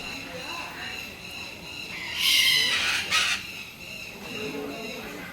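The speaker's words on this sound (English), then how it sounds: "Parrots are generally loud birds." Loud, harsh parrot calls burst out in a couple of strident squawks over a steady background hum, with shrill high-pitched screeches.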